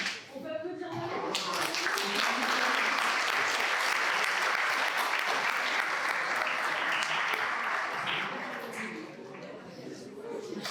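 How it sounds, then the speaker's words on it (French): An audience applauds a speaker named Manon at a French café-debate event, a dense, loud burst of clapping that swells quickly, holds for several seconds, then fades out. "On peut applaudir Manon."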